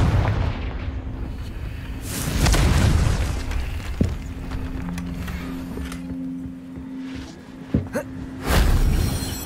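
Confringo blasting-spell explosions from the video game Hogwarts Legacy produce loud, booming bursts, with one big blast early and another near the end. Between them come rumbling, sharp cracks and a steady game tone.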